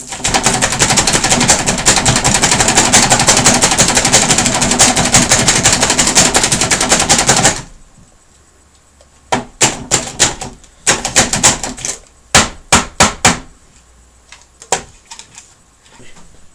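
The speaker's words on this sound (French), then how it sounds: "Nous avons réussi à couper cette salade parfaitement. Par contre, ça nous a pris plusieurs gros coups." A Slap Chop hand chopper hammers down on lettuce in a run of sharp plastic clacks, some in quick clusters and others spaced apart, coming after several seconds of loud, steady noise.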